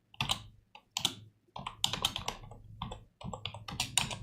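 Someone types code on a computer keyboard, producing close, crisp key clicks in quick irregular bursts separated by short pauses.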